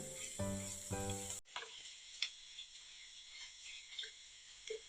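Onion with ginger-garlic paste frying in oil in a pan gives a steady sizzle, opening with a short musical tone that cuts off, then scattered soft pops and crackles close by.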